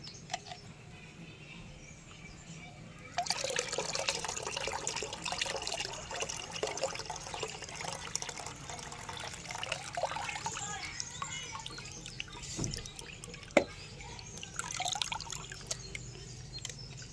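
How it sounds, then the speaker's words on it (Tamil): Neem leaf water being poured and filtered for treating pests on rose plants, starting as a faint trickle and becoming a steady, quiet pour with scattered drips after a few seconds. "இது கூட கொஞ்சம் லைட்டாக தண்ணி ஊற்றிக்கலாம்"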